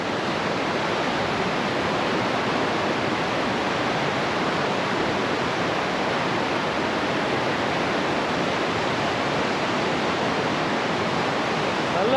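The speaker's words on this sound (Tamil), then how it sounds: "நல்லா தண்ணி வந்து பெருக்கெடுத்து ஓடிட்டு இருக்கு பாருங்க." Steady, dense roar of a swollen river in Nepal fills the whole stretch without pause, a broad constant wash in full flow.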